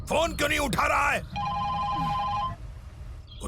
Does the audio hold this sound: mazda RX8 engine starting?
no